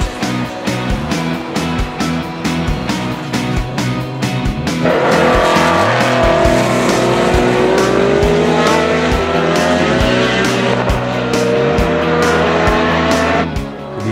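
A race car accelerates hard on a drying track on cold tyres, engine roaring loudly and continuously with rising revs and sharp gear changes, the pitch climbing steadily as it passes close by with no one speaking.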